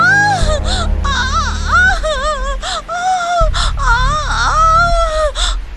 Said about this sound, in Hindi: माधवी के दर्द भरी चीखें और रोने की आवाज कपिला सुनती है